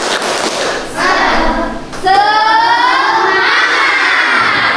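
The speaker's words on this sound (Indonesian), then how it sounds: "kita tepuk semangat satu kali ya" A primary school class chants a spirit clap together, children's voices shouting in unison with a few claps, loud and close, ending in a sustained group shout.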